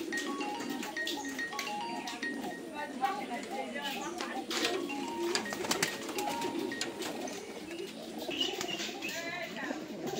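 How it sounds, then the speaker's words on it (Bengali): Domestic pigeons coo softly and repeatedly alongside scattered chirps and wing rustles, while people talk close by throughout. "অনেক সুন্দর একটা কবুতর"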